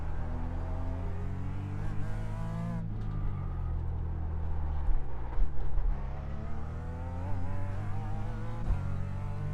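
A BMW race car in the iRacing sim holds a loud, steady engine drone, climbing and falling through the gears with a brief lift around the third second before rising again.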